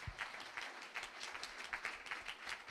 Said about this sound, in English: So let's have a hand of applause for them as we start.